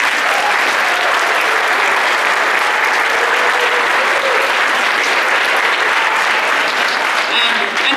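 Sustained applause from a large audience at a school winter band concert, dense and steady clapping that fills the room without pause, with faint voices mixed in.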